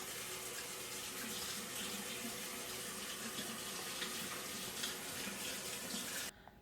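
A kitchen tap runs steadily in a sink while cookie dough for cinnamon cookies is rinsed off hands, a continuous close splashing flow that cuts off abruptly at the end.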